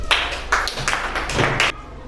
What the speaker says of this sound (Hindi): सुनीता के लिए ताली बजाइए